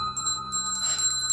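A little bell is rung over a spell jar of ingredients during a Samhain ritual, giving a bright, sustained metallic ring with shimmering overtones that hold throughout, close and clear.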